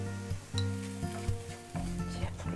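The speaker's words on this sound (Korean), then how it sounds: "불을 끄고 고춧가루를 이제 넣고" Chili powder hits hot scallion oil with the heat switched off, giving a soft, steady sizzle broken by a few scrapes and stirring clinks of a utensil in the pan.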